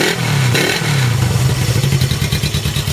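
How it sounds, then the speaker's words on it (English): A 1975 Honda CB360 motorcycle with a Mac 2-into-1 exhaust revs up once near the mic, then settles into a throaty, rhythmic pulsing idle, with no talking. "Give you one more rev of it there."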